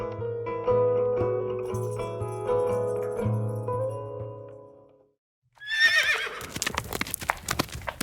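A horse whinnies over a sustained musical score in a radio drama staging of King Lear, then after a brief silence hooves clip-clop in a quick, uneven clatter close by.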